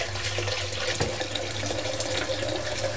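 Tap water runs steadily over homemade fishing bait as it is rinsed, a close, continuous rushing splash that holds even for about three seconds with no talking.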